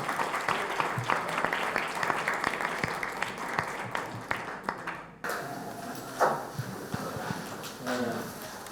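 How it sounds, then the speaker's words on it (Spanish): Audience applause at a book-fair talk, a dense patter of clapping that thins and drops off midway, then returns in scattered claps with some voices murmuring underneath. "Los recibimos con un aplauso y les damos la palabra."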